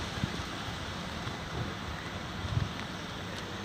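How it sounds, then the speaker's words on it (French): Steady rain falls at a campervan parking area in Gérardmer in the Vosges, a continuous soft hiss with a few faint low thumps, heard alone without any talking. "Il pleut, bergère."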